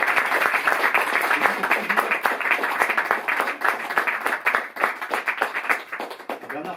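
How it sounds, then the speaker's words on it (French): A seated audience applauds the guests at a film talk in a Paris venue, a dense, continuous wash of many clapping hands at moderate level, sustained throughout without speech. "on va applaudir nos invités, Jean-Baptiste Ray et Bernard Benoliel."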